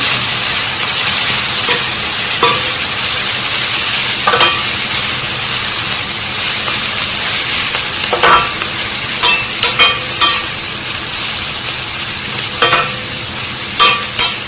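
Spinach stirred in a frying pan over a low gas flame gives a steady sizzling hiss, broken by repeated scraping and clattering strokes of a spatula that grow denser toward the end.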